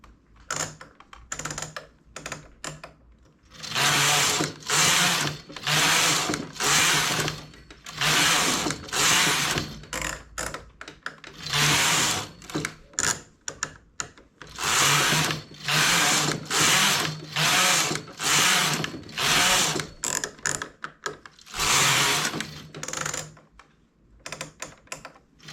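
A knitting machine makes rows for a double-knit child's jumpsuit: the carriage sweeps back and forth in loud, steady passes, each a dense clattering rasp of a second or so, repeating in a regular rhythm.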